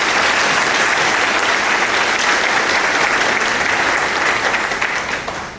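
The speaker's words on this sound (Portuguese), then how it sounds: "Uma salva de palmas para todos vocês," A Portuguese-speaking seminar audience on supermarket category management bursts into loud, steady clapping that holds strong and tapers slightly at the end.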